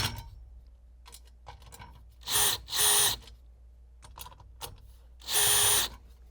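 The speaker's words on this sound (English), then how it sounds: "Secure the pickets by tightening the screws into both the top and bottom rails with the drill" A power drill drives screws into an aluminum stair railing's pickets and rails in three loud bursts, two close together and one after a pause, with quieter tool handling and clicks in between.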